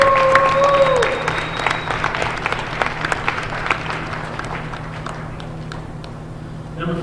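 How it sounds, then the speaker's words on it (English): Crowd applause at a high school girls' basketball game, steady clapping from a gym audience for a player introduction, fairly loud and continuous and fading gradually, with whistle-like tones and voices near the start. "Everyone, let's give Stephanie a round of applause."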